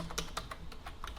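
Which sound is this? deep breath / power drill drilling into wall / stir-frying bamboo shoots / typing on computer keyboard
typing on computer keyboard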